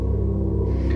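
A steady bass drone from a Roland SH-4d synthesizer, built from a pulse wave with some noise mixed in, low and thick, holding one sustained tone without a break.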